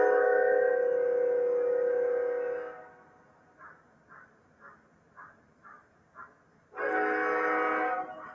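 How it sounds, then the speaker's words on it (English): A train passes with two long, loud blasts of its horn, separated by a stretch of rhythmic wheel clacks over the rail joints. No one speaks. "Her lucky train just is going by."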